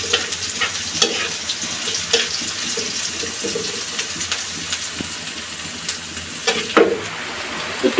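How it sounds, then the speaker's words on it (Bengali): Okra fries in a lightly oiled wok, giving a bright continuous sizzle with frequent clacks and scrapes of a spatula, loud and close with no talking. "আর অবশ্যই একটু তেল তেলা কড়াইতে দিতে হইব, নইলে আপনি ভেন্ডিটা মশমশা হবে না।"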